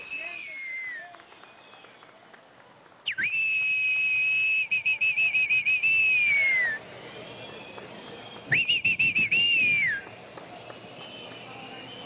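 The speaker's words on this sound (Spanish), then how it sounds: "Vamos a ver quién de ustedes sabe silbar." People at a crowded public event whistle in sharp, sustained high tones, with one long whistle and then a shorter burst, over a background murmur of the crowd.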